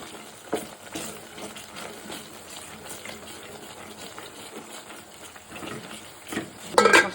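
Egg korma masala with poppy seeds fries in a pan and is stirred, a soft sizzle broken by scattered spoon knocks and a louder clatter near the end.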